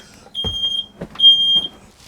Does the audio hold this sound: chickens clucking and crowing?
no